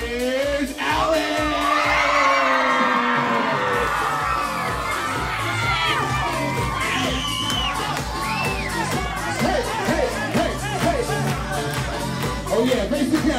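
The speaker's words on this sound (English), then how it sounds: "clap your hands and make some noise for the one," Bat mitzvah party crowd at a country club bursting into loud, sustained cheering, whooping and shouting with children's high yells mixed in, the din holding steady throughout with a brief swell near the start.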